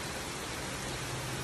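Heavy rain falls steadily over a neighborhood, a dense, even wash of drops spread across the whole clip with no voices.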